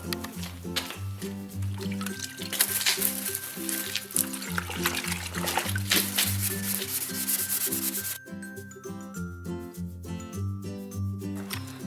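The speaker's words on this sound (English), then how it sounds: "I'm going to go ahead with 800 grade sandpaper, so I'm going to wet sand it straight away" Steady rhythmic scrubbing of wet 800-grit sandpaper against a car bumper, back-and-forth strokes with a damp, gritty texture, close and continuous over a musical background.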